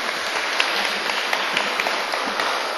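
An audience in a studio real-estate broadcast claps in a dense, steady round of applause, moderately loud and unbroken, with no voices over it.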